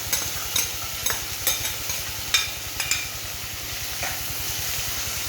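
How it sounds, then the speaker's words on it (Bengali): Onions frying in hot oil, a steady close sizzle with a low rhythmic pulsing underneath and several sharp clinks and scrapes of stirring scattered throughout, no talk. "তেলটা একটু গরম হলে এবার এর মধ্যে আমি পেঁয়াজগুলো ছেড়ে দিই।"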